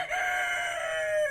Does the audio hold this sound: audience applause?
no